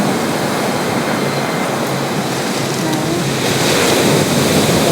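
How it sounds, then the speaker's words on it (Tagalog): A loud, steady roar of crashing surf fills the air, broad and unbroken, swelling slightly toward the end with wind noise. "Malakas yung alon"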